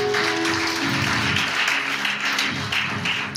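A church congregation claps and cheers for Jesus during a worship service, with dense, continuous applause that stays loud and close throughout.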